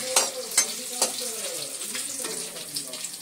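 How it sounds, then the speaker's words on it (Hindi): Onions fry in hot oil with salt while being stirred, giving a soft continuous sizzle with a few sharp clinks of a utensil against the pan near the start. "डाल दिया है प्याज तेल गर्म होने के बाद। उसके बाद मम्मी डाल ली है नमक।"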